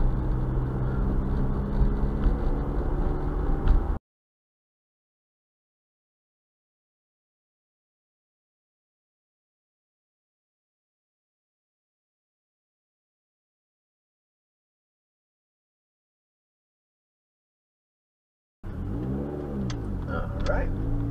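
Inside a moving car, a low engine drone runs under someone talking. The sound drops out into a long silence midway, then the road and engine noise return with more talk.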